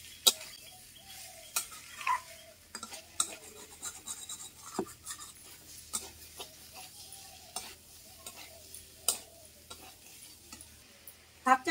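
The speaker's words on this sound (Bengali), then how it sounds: "সব একসঙ্গে ভালো করে কষিয়ে নেব।" Fried jackfruit seeds stir-fried with spices in a pan for a curry, with a soft, low sizzle under frequent scraping and tapping strokes of a spatula against the metal.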